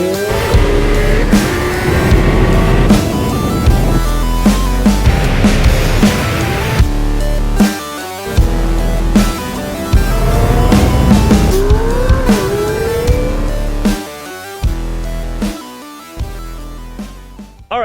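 A McLaren 720S sports car roars and revs hard, with repeated sharp throttle bursts, gear shifts and tire squeal, loud and close, broken by short gaps between pulls.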